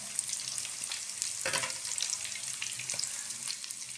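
Snack pieces frying in hot oil over a medium flame, a steady bright sizzle throughout with a few louder crackles and spits as pieces settle, close and continuous with no voice.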